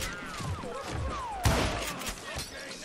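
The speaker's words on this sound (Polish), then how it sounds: "Idealnie, jeden strzał, jeden trup." A gunshot in Call of Juarez: Gunslinger cracks out once, sharp and loud, over a busy game soundscape with whooshing and rumbling effects.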